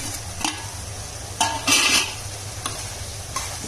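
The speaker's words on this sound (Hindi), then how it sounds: "अब इसमें भिंडी डाल देंगे हम, ये फ्राई की हुई।" Fried okra (bhindi) tipped into an oily onion-tomato masala in a pan and stirred, giving a steady frying hiss with scraping spoon strokes and one louder burst of sizzle as it goes in, close and without talk.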